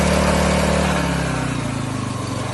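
A small engine-driven three-cylinder sprayer pump runs loudly and steadily nearby, its pitch dropping as it settles into a slower idle.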